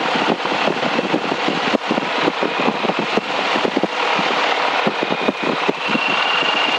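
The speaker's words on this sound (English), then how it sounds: "I'm just going to put the engine up, check some power settings very quickly." Yak 52 aircraft engine running up for a power check before flight, a loud steady roar with a rough pulsing texture and wind, continuous and close for the whole stretch.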